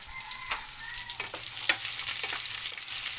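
Food frying in a pan on a butane stove, a steady sizzle with scattered crackles and pops throughout, fairly close.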